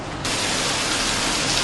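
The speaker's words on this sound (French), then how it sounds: "que la pluie résonne sur les vitres du palais présidentiel." Steady rain patters against the windows of a presidential palace, a dense hiss that swells suddenly after a brief quieter moment and then holds evenly with no voices.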